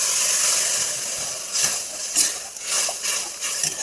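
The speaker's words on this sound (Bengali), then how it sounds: "মশলা কষানো হয়ে গেছে, জল দিয়ে দেবো।" Water poured onto fried spices in a pan sets off a loud, steady steam hiss and sizzle, swelling in a few bursts with no talking.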